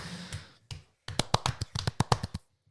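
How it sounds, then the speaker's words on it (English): A small round of clapping sounds after a short pause: about a dozen sharp, close claps arrive in quick, slightly uneven succession before stopping. No one speaks. "It's clapping."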